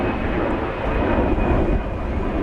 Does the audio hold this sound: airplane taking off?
yes